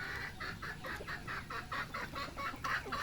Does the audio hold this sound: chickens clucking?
yes